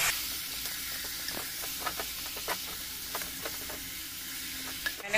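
Mutton sizzles in a hot pan with onions and garam masala, a steady frying hiss broken by scattered scrapes and clinks of stirring, close and moderately quiet, with no talking.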